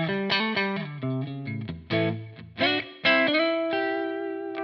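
Electric guitar through a single-coil pickup into a Friedman-style amp tone, playing a short run of ringing notes and chords with a few sharp picked attacks, each left to sustain and decay, clear and close with no talking.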